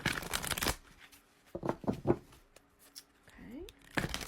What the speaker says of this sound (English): now I'm just going to shuffle the card deck one way